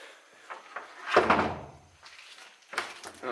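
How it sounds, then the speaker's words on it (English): Someone tugs and rattles a jammed door inside an abandoned insane asylum, a heavy thud with rattling wood followed by further knocks and scrapes, close by and echoing slightly. "I can't open that door either"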